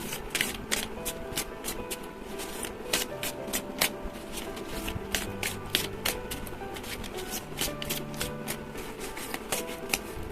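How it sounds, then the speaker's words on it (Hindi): Tarot cards shuffled steadily for about ten seconds, a dense run of crisp riffling and flicking snaps close to the mic, with no talking. "टैरो में से हम 6 कार्ड लेंगे"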